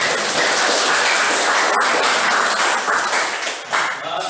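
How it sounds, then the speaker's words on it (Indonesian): A class in an Indonesian school claps for a student group after its presentation, a steady dense patter of many hands lasting a few seconds before tapering off. "kita beri tepuk tangan ya"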